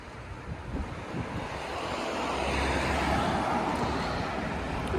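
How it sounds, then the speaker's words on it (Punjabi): Steady, loud wind roaring and buffeting the microphone outdoors by a lake in Italy, with a broad rushing noise that builds and stays strong throughout. "ਅੱਜ ਤਾਂ ਹਵਾ ਨੇ ਭੰਨਤਾ ਯਾਰ"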